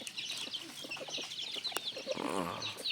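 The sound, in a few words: chickens clucking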